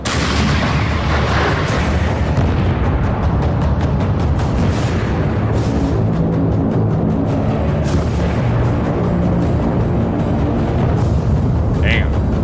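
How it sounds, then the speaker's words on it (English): Leopard 2A4 tank firing on a Russian armored column, a dense roar of repeated booming blasts and rumbling impacts that stays loud and continuous with no pauses throughout. "the tank locks onto its target and opens precise fire"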